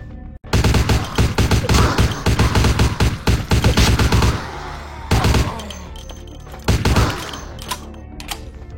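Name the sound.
machine gun firing in a video game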